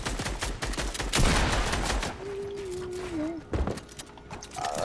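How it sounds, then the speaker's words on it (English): Rapid bursts of gunfire in a multiplayer shooter video game crackle loudly at first, then come in scattered volleys, mixed with game sound effects and a tonal whine. "Somebody's shooting in."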